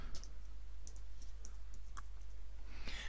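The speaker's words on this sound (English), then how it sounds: "So I'm just going to type on my keyboard," Scattered clicks of keys being typed on a computer keyboard, soft and close, coming in uneven bursts over a steady low hum, with no voices.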